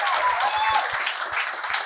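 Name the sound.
audience applause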